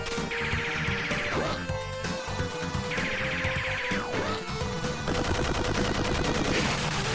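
Rapid cannon gunfire in the Sega run-and-gun video game Gunstar Heroes during a final-stage boss rush, loud continuous bursts of shots with sweeping electronic effects and game music underneath.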